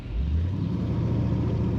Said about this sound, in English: Nice throaty rumble to the exhaust in this Buick.